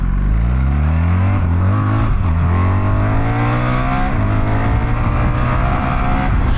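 A 2024 BMW R1300GS motorcycle engine drones steadily while riding, pitch rising and falling slightly as the rider changes speed, with constant loud wind rush close to the rider.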